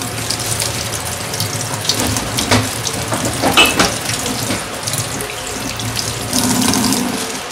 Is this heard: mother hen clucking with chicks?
no